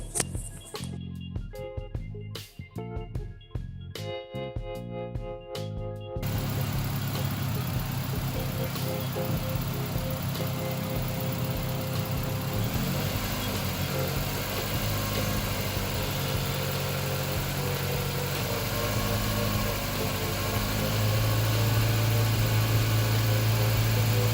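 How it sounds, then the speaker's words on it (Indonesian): An old car's engine cranks and catches, then idles with a steady mid-low hum, lightly revved toward the end while the radiator coolant circulates, close and fairly loud with no talk. "terus kita nyalakan mesin dan sedikit digas untuk melihat sirkulasi air"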